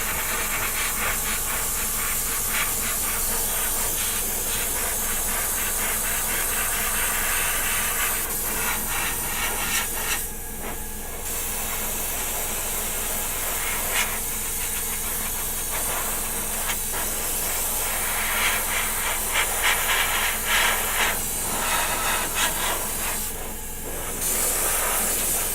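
A spray can or airbrush hisses almost continuously while a second coat of paint goes onto a War of the Worlds model kit, a close, broad steamy spray broken by two brief pauses.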